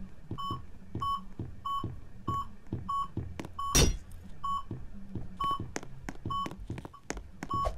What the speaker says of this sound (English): it's beeping slow and fast, depending on how far or how close the piggy is.